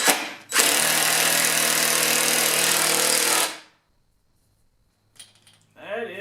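A power driver runs a lag screw into a wall mount for an air compressor hose reel: one loud, steady whir lasting about three seconds, close up, followed by quiet and a few faint handling knocks.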